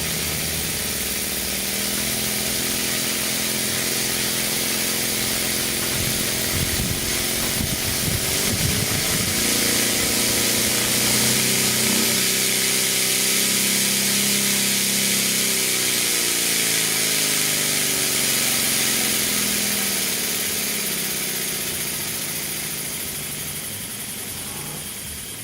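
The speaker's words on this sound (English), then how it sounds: "this is actually quite a fast running engine" A Stuart 504 model steam engine runs fast and smooth, giving a steady, even mechanical whir with a faint rhythmic beat that holds at a constant level and fades slightly at the end, with no talking.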